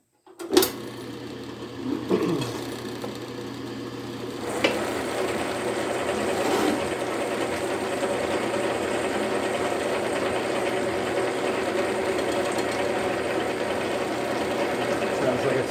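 An old, freshly oiled gear-cutting machine runs steadily while cutting bevel gear teeth, a continuous mechanical hum and whir with a clunk at startup and faint periodic knocks.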